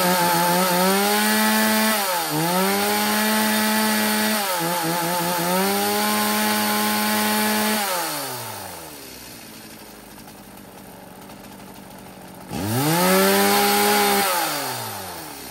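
A used Japanese-market chainsaw, pull-started and then revved, roars loudly up close. Its engine rises and falls through several throttle blips, settles into a quieter idle, then surges again to a high rev.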